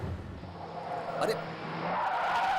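Car tires squeal and skid under reckless driving, a rising screech that peaks midway and persists over a rumbling engine, with a voice talking over it.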